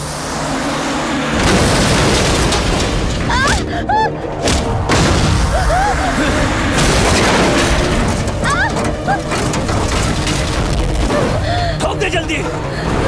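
A loud explosion in a Hindi film scene, a dense sustained blast and rumble with debris and thuds lasting several seconds, with a voice shouting over it.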